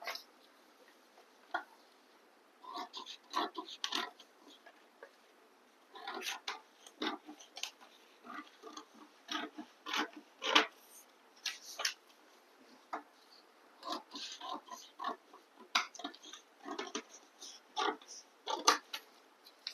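Fabric for the front piece of a single katori blouse is cut, giving faint, crisp snipping and ticking sounds in irregular bursts against a quiet room.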